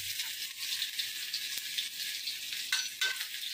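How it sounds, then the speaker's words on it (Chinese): Vegetables stir-fried in a wok give a steady, bright sizzle throughout, with a few quick scraping clicks from stirring near the end. No one talks. "跟着我来炒个菜"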